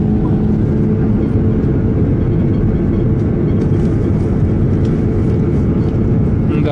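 Passenger airliner engines spooling up for the takeoff roll on a runway at Moscow, heard from inside the cabin as a loud, steady broadband roar throughout.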